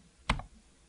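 A single computer keyboard key press while switching multicam angles during playback in Edius 6.5 editing software: one short, sharp click, close and isolated, with no talk.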